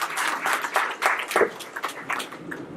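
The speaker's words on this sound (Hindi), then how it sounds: "आप सबसे निवेदन की जोरदार ताली बजाकर उनका स्वागत करें।" An audience claps vigorously to welcome a guest speaker at a political event in a hall, a dense, continuous round of applause with no talk over it.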